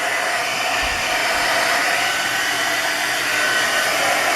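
A heat gun melts embossing powder on a craft stamping project, blowing with a loud, steady, close whoosh that stays continuous and unbroken throughout.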